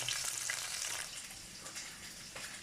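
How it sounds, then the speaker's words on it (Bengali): Eggs fry with salt in a pan, giving a steady close sizzle with bright crackling, slightly louder at the start and then holding level to the end, with no talk. "শুধু লবণ দিয়ে ডিমটাকে ভাজতেছি"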